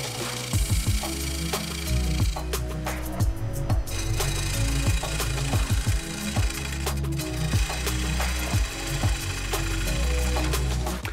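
A wood lathe spins a vase held on with hot glue, giving a continuous loud whirring hum with repeated scraping and rubbing tool contacts, with no talking.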